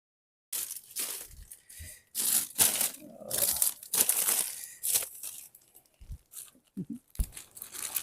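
Packaging crinkles and tears in close, irregular bursts as frozen food is unpacked from a freezer next to a hot compost bin, with short pauses between handfuls and no talking.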